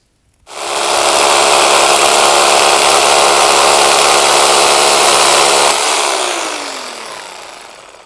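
A drill bores into concrete to take a wall bracket while a wooden terrace is being built. It gives one loud, continuous, close grinding roar lasting about five seconds, then the motor winds down and fades away with no talking.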